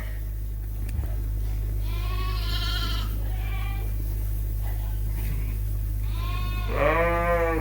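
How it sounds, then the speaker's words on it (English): Suffolk sheep bleat in a barn at feeding time at night, several wavering calls from close by, with one loud bleat near the end, over a constant low mechanical hum. "I'm just feeding some sheep."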